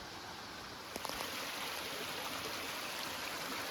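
A steady rush of falling water fills the whole clip, constant and close, at the foot of the Narinetskyi waterfall, with a couple of faint clicks early on.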